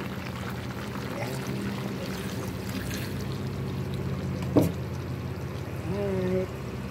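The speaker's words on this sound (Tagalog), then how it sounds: "lagyan natin ng konti na gata" Coconut milk is poured into a pot of chicken caldereta, a soft liquid pour over a background hum, with a sharp clink partway through and a voice speaking briefly near the end.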